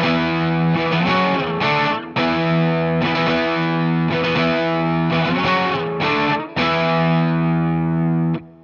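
An electric guitar plays the opening part of a song with distortion and a chorus effect, a continuous flowing run of chords and melodic fills, loud and up close with no talking.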